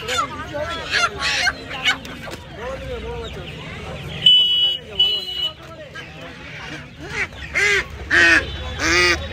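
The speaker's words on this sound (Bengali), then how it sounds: "এখানে দেখুন দেশি হাঁস আছে" Native ducks at a poultry market quack and honk in repeated bursts close by, with people talking over them throughout.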